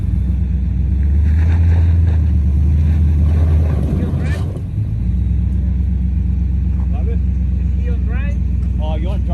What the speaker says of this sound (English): it was pretty stuck, and my tires were spinning